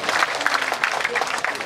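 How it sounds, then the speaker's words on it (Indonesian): Audience applause for Dr. Syakir, head of the agricultural research and development agency, at an Indonesian parliamentary work visit: steady dense clapping filling the short stretch with a faint voice beneath. "Tepuk tangan untuk Pak Dr."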